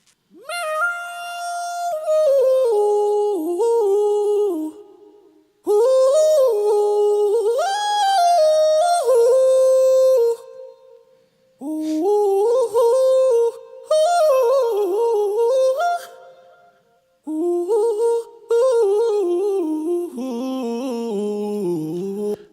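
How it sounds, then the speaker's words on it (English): Sung vocal phrases processed with aggressive, fast-tempo auto-tune, notes snapping sharply between pitches in a hard, robotic way; four separate phrases with short silences between, loud and close, no accompaniment evident. "if I play it with auto-tune, and this is a more aggressive auto-tune, I'm going up into the fast tempo or the fast note correction"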